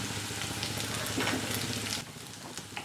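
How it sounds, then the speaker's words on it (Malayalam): Onion sautéing in a pan with crushed ginger and garlic, a steady close sizzle with faint scraping from stirring, easing slightly in the final second. "അതിലേക്ക് നമുക്ക് ഇഞ്ചിയും വെളുത്തുള്ളിയും ചതച്ചും കൂടി ചേർത്ത് വീണ്ടും നന്നായിട്ട് വഴറ്റി കൊടുക്കാം"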